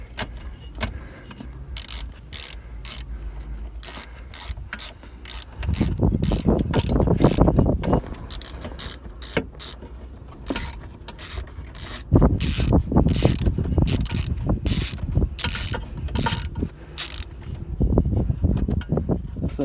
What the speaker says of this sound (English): Looks like that little nut is coming off.